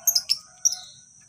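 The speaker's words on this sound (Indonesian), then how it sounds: "Di kandang umbaran ini mereka akan ngekek-ngekek." Lovebirds chirp in an open flight cage with sharp, high tweets in a quick cluster, then one more chirp after a short pause, close and clear with no talking.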